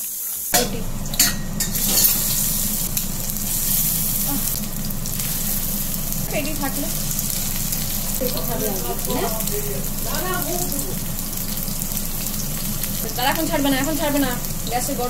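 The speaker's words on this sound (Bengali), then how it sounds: "মাছের মাথাগুলো আমি কড়া করে ভেজে নিচ্ছি" Fish heads fried crisp in hot oil for a dal, a loud continuous sizzle with occasional utensil clinks and pan knocks, while a voice talks intermittently over the frying.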